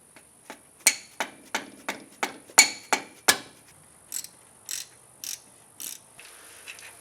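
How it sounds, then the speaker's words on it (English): Metal clinks and taps while a stud and bracket are worked loose from a Subaru engine: about a dozen short, sharp ticks and knocks in an uneven rhythm, close and moderately loud, with no talking. "I'm going to start by removing the stud with the bracket."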